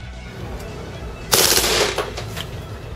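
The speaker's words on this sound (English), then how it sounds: "Combine that with the fact that this gun is very, very loud" A KWA H&K MP7 airsoft AEG fires one loud burst of about half a second, a sharp, bright rattle that jumps above quieter background noise and then fades into lower rustling.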